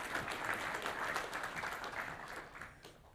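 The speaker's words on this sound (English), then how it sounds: "we're going to need some applause there" A panel audience bursts into applause, a fairly soft, dense patter of clapping from a small crowd that holds for a few seconds and then fades away.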